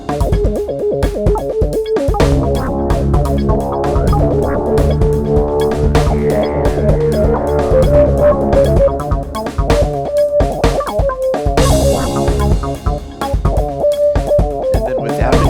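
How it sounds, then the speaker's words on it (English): Drum-heavy music with the PowerSag plugin's distortion pushed hard, the low kick-drum hits breaking up into a gritty, saturated thump under a steady, dense mix that plays on without pause. "Oh, I can hear it breaking up on those lows."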